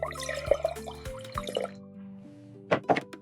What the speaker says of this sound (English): Fill your bottle halfway with water, just like this.